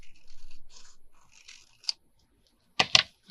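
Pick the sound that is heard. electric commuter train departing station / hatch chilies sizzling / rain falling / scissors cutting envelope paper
scissors cutting envelope paper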